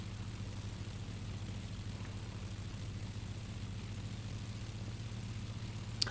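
The simulated engine of an RWDesigns Spitfire Mk.I in X-Plane 10 drones as a low, steady, fairly quiet rumble that holds level throughout, with no voices over it.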